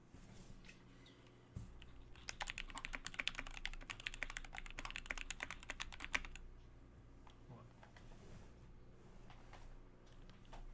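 Rapid keystrokes on a freshly assembled Tofu65 mechanical keyboard, a dense burst of clicky typing rising for a few seconds before stopping, with a low steady hum beneath and quieter room noise after.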